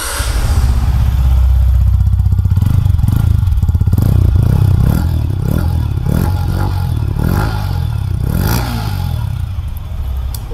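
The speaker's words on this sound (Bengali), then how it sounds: "বাইকে একটু এক্সস্ট সাউন্ডটা তোমাদের শুনিয়ে দিই" A Yamaha MT-15 V3.0 motorcycle engine runs loud and close, with a steady exhaust drone and a series of rhythmic throttle blips that rise and fall through the middle, accompanied by some clattering mechanical noise.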